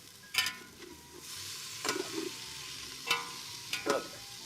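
Stirring a pot of creamy potato soup over a campfire: a few distinct scraping strokes spaced a second or so apart, fairly close, with a soft background hiss and no talking.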